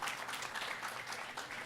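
Audience applauding at a public forum on corruption in Cúcuta, Colombia, a dense wash of clapping from a seated crowd, fairly faint and steady from start to finish.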